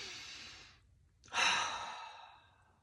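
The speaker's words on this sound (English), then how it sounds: "3 big deep breaths in" Slow deep breathing during a guided breathing exercise: a long audible exhale fades out, then after a brief pause a strong deep inhale swells and trails off, close and clear with no talking.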